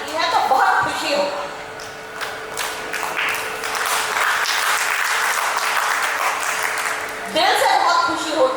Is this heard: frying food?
no